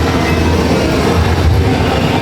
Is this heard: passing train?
yes